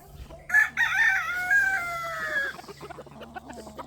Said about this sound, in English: Oh yeah, we got some Cajun chickens.